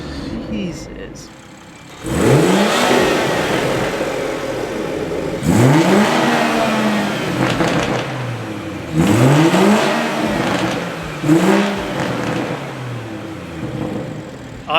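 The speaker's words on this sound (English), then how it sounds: "This exhaust is definitely breaking in and getting louder and louder, but it sounds sick" A BMW F30 with a B58 engine and performance intake revs hard in repeated bursts, its loud exhaust roaring and rising in pitch about four times, close by and dominating the scene.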